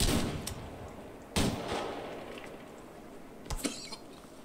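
A grenade goes off in an online first-person shooter, a sharp broadband blast near the start followed by another loud burst around 1.4 seconds and a third late, with rumbling gunfire-like crackle between.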